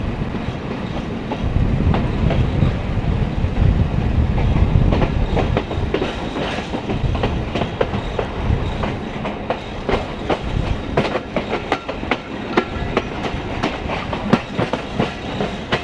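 Commuter express train running on rails between Rajshahi and Rohonpur, heard from on board: a loud, steady rumble with rhythmic clickety-clack of wheels over rail joints throughout, with no voices.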